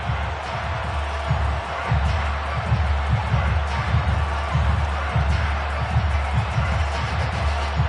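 A large football stadium crowd at a season opener roars and cheers steadily, a dense, sustained wash of noise with rhythmic swells as fans chant, heard from within the stands.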